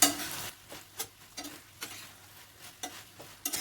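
Eggs stir-fried in a pan for egg chili with salt, a spatula scraping and tapping in irregular strokes over a soft, steady sizzle, close and moderately loud.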